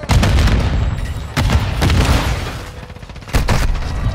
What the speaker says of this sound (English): Got a little cruise missile.